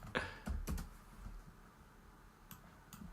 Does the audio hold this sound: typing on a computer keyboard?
yes